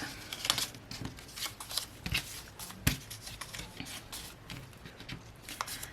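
Cardstock fall cards are picked up and handled on a craft table, giving close, irregular papery rustles, slides and taps.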